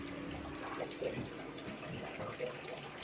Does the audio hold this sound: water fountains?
yes